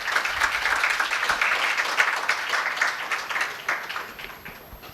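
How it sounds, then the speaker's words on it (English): Audience applause for a student prize winner at an AI and education symposium, a dense, steady clatter of many hands that holds strong throughout and eases slightly near the end. "A big round of applause, students."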